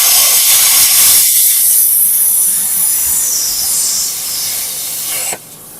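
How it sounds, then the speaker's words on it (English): A torch blows flame to free stuck bolts during a Corvette LS swap, a steady loud roaring hiss that continues unbroken before cutting off abruptly near the end. "So we're going to blow flames now."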